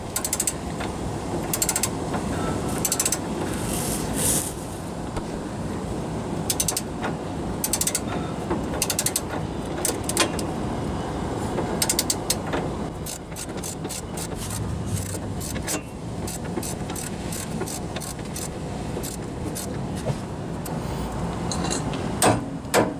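A ratchet works a tie rod nut under a 1997-2004 Ford F-150, clicking in repeated close bursts of rapid pawl ticks over steady background noise.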